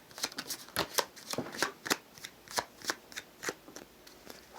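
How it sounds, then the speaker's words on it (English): Tarot cards drawn and handled during a reading, with a run of sharp, close papery slaps and flicks in an uneven rhythm, loud and clear with no talking. "after I draw the tarot cards"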